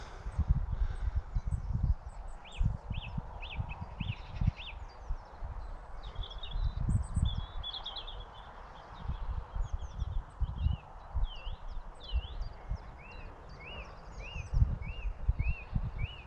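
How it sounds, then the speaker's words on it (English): A song thrush sings in short repeated phrases from a hedge nearby, over low rustling and occasional thumps, with a steady outdoor hum underneath. "Somewhere in that hedge there's a song thrush singing,"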